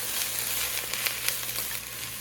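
Onions fry in a pan for caramelized onions as they are stirred: a close, steady sizzle with soft scraping and light crackles rising now and then, and no talk.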